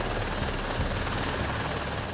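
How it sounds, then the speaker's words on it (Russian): A helicopter flies over Hong Kong, its dense, loud rotor and engine roar steady and close throughout, with no gaps or voices. "На работу миллионеры летают на вертолетах."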